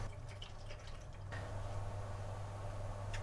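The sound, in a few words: water poured in to test if it holds water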